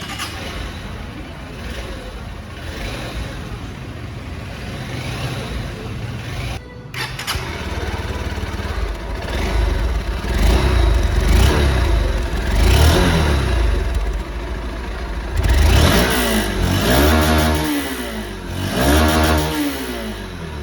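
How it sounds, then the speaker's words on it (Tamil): Honda SP 160 motorcycle running nearby, its exhaust note swelling through repeated revs with rising and falling pitch sweeps, loud and steady throughout with no talking. "வண்டியுடைய எக்ஸாஸ்ட் சவுண்டு வந்து நீங்கள் கேட்டிருப்பீங்க"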